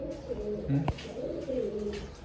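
Pigeons sitting outside a loft, some suffering from paralysis, coo in low, rolling phrases, with a sharp knock partway through and steady background noise throughout.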